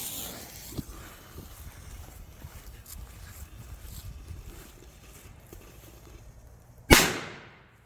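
A green-flame Halloween firework goes off outdoors: a low crackling fizz runs for several seconds, then one sharp, loud bang rings out and fades in a brief echoing tail.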